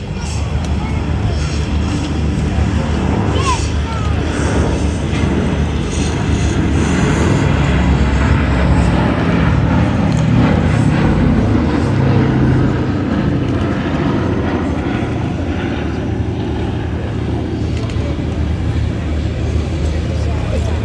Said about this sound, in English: Let's listen to those four beautiful engines.